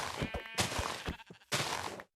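Sheep in a video game giving several short bleats in quick succession, close and distinct, separated by brief silent gaps and ending abruptly.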